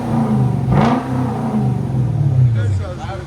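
A Lexus 4.0-, 4.3- or 4.6-litre V8 revs up and falls back in a single sweep, loud and close, with speech heard over the engine.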